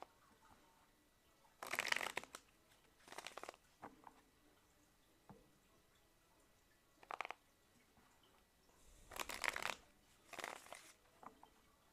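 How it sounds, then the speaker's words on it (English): Tarot cards being shuffled in quiet bursts of riffling and sliding, several separate shuffles with pauses between them, close and soft. "I'm not shuffling for no reason"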